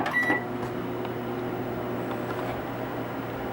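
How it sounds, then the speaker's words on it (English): A microwave oven heating agarose gel solution runs with a steady low electrical hum and fan whir, opened by a brief higher tone at the start, close and fairly quiet, with no talking. "So we'll put it in the microwave again."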